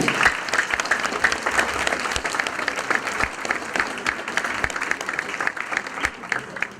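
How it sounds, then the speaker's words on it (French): A concert audience in Euville, France claps steadily throughout, a dense, sustained round of applause filling the room. "on peut les applaudir parce qu'ils ont fait un long déplacement"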